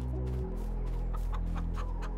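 Chickens in the Farming Simulator 22 video game cluck in a quick run of short, close bursts over a steady low hum, with no talking.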